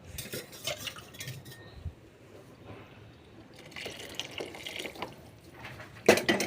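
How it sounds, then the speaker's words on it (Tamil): Water sloshes and splashes in a metal cooking pot as it is rinsed, with clinks and scraping, then a brief pour near the end; no talking. "தண்ணி ஊற்றி அலசி ஊற்றிக்கலாம்."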